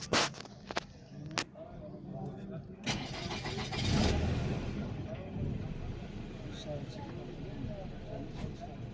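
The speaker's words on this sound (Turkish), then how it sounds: "Hmm, gaz vermeden çalıştırdım." A used car's engine starts without any throttle, a burst of cranking and catch around four seconds, then settles into a steady idle that continues under background talk.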